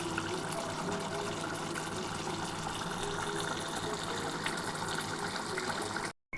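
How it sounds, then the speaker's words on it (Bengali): A potato and cauliflower curry boils in a pot on a gas stove turned up high. It makes a steady, close, dense bubbling hiss that runs without a break and stops abruptly near the end. "একটু গ্যাসটা জোর করে দিলাম, একটু ফুটে যাক।"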